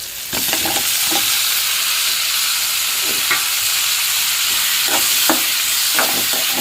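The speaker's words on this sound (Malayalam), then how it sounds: "കുറച്ചൊന്ന് വാടുന്നവരെ നമുക്ക് ഇളക്കിയെടുക്കാം." Onions fry in a pan for tomato chutney, a loud steady sizzle running throughout, broken by close scraping stir strokes at irregular intervals.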